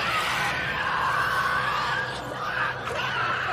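Enemies in The Last of Us Part II shriek after a molotov cocktail bursts among them: continuous, loud, strained screaming that holds for several seconds with little pause.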